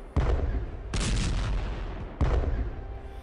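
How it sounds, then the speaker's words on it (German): Three heavy artillery blasts from a tank attack in the World War 1 strategy game Strategic Command: World War 1 arrive in quick succession, each a loud booming crack with a rumbling tail. "der Panzer hat gerade eben angegriffen"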